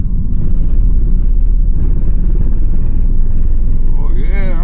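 A vehicle engine rumbles steadily and loudly at idle from close inside the vehicle, a continuous low drone that holds without pause, with a brief higher whine near the end.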